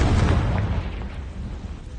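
A Confringo fire spell from Hogwarts Legacy lands as one loud, rumbling explosive blast that rolls on and slowly fades over about two seconds, with no voices.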